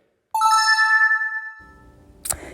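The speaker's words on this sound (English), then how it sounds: "maybe ring that notification bell" A bright notification bell chimes once with a clear ringing tone that sustains and slowly fades, followed by a short clicking sound effect at the end.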